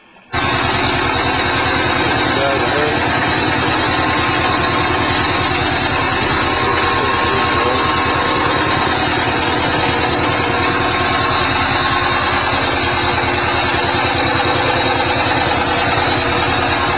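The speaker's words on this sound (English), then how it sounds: "22 horsepower diesel engine." A Redstone single-cylinder 22 horsepower diesel engine runs a generator under a 5 kilowatt load on waste vegetable oil, starting up and then chugging loudly and steadily in a continuous close thrum.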